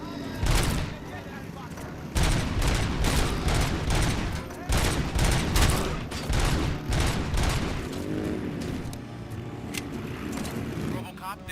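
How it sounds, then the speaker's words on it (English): Rapid, loud gunfire in the shooter game Robocop: Rogue City, volleys of close shots crackling steadily for over ten seconds, with a voice talking over the shooting. "Damn it, I hate shooting these guys. But it feels so good when you get them."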